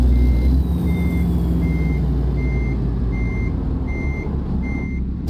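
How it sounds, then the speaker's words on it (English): A semi-truck backing up in American Truck Simulator sounds a steady series of evenly spaced reversing beeps, about eight of them, over a loud constant diesel engine rumble. "As I back this truck up."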